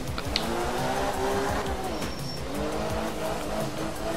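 An old Ford rally car in Art of Rally, its engine droning steadily while the tyres squeal and skid in long, continuous sweeps, loud and close throughout.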